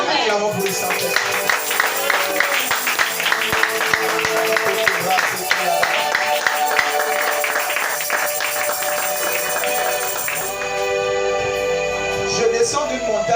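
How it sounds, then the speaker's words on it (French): Church congregation clapping and cheering, a dense, continuous wash of claps and crowd noise with voices mixed in, loud and sustained, thinning slightly near the end. "Acclamons pour le Saint-Esprit"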